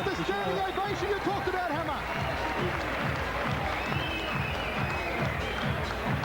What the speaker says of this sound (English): There's the standing ovation you talked about, Hammer.